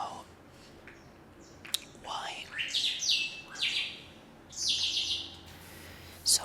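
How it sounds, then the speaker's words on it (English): Several bursts of shrill bird chirping ring out close by, separated by short gaps, while a person talks quietly in the background. "They're just wild birds near my tree."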